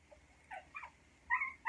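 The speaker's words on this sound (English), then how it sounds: "And the dog's crying." A dog whimpering and crying indoors, several short high-pitched whines in separate bursts, fairly faint against a quiet room with no talking.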